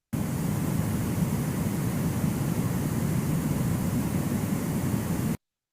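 Steady broadband roar with heavy low rumble, constant and unchanging throughout, a jet airplane drone synthesized in Audacity.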